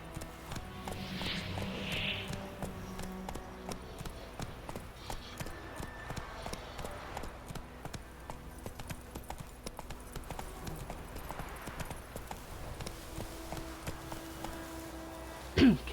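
Horse hooves clip-clop rhythmically at a walking-to-running pace in The Witcher 3 video game, fairly faint and steady throughout, with soft game ambience and a brief sharp sound at the very end.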